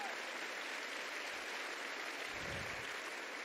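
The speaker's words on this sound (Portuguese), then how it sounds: "Pode aplaudir o Senhor." A church congregation applauds with dense, continuous clapping at moderate distance, swelling briefly near the end, with no speech.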